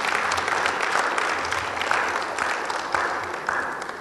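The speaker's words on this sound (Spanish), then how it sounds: "No, el aplauso es para ustedes," Steady audience applause at a food sovereignty and security forum, dense clapping from a crowd at moderate distance that carries on evenly throughout, with a faint voice underneath.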